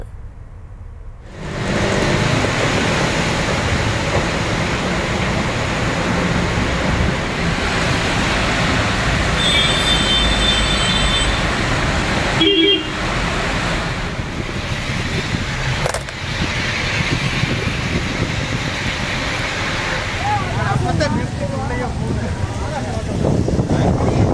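Storm winds roar loudly and continuously through Tiruppur amid heavy rain that toppled a transformer, a dense, rushing broadband howl that fills the whole stretch with only brief dips.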